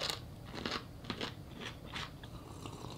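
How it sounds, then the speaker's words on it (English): Crisp crunches from biting and chewing a pickle, several wet, close bursts spaced about half a second apart over quiet room sound. "We're gonna dive in and start off with this pickle."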